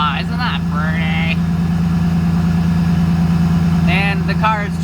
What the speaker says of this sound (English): the car is too cold right now to rev it, so we're just gonna let it warm up a bit